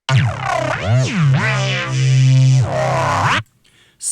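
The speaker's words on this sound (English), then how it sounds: "It brings out this characteristic phase sync kind of effect." Detuned synth bass with a phase-synced oscillator, neurohop style: a growling, sweeping tone whose pitch and timbre swoop up and down for about three and a half seconds, loud and alone, then cutting off.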